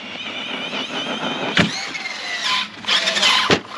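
An Arrma Fireteam RC car driving hard and attempting a wheelie, a whining electric motor that rises and falls in pitch with a few sharp knocks and bursts, fairly close and with no talking.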